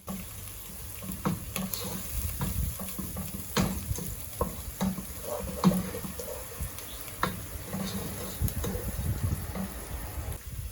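Food with salt and turmeric frying in a pan for a Réunion tuna carry, sizzling steadily while a utensil stirs and scrapes in irregular knocks, close by.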